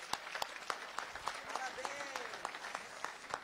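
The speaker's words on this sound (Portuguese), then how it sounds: "Vocês estão de parabéns e também merecem uma salva de palmas" An audience applauding together, a steady patter of many hands clapping with a few sharper, closer claps standing out and faint voices mixed in throughout.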